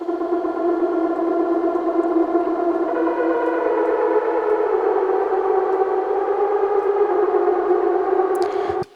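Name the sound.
Bitwig stock polysynth played through a reverb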